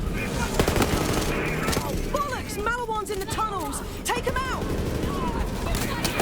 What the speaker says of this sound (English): I'm using an SMG right now that has either a burst mode or a full auto mode